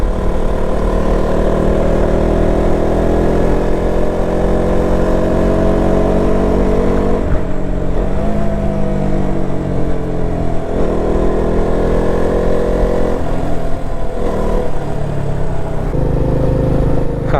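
An old original KTM motorcycle engine, around 2014 vintage, runs close and loud in a steady droning rumble whose pitch shifts several times as the revs change, with no talking over it.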